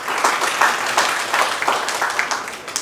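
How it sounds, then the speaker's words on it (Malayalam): Audience applause at a 2016 farmers' meeting: steady, dense clapping from a crowd, moderately loud and even throughout, with no clear speech over it. "നമുക്ക് അദ്ദേഹത്തിന് ഒരു ക്ലാപ്പ് കൊടുക്കാം."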